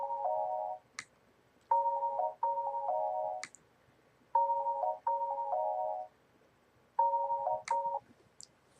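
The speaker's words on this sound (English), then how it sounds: "there's my phone ringing too" A phone ringing in a home podcast setting, sounding as a repeating electronic tone pattern of short beeping bursts with brief pauses between them, fairly quiet and alone without talk.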